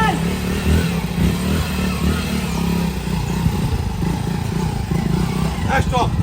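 A motorcycle engine rumbles nearby during a slow bike challenge outdoors, a steady low drone with clattering, while people talk and call out over it.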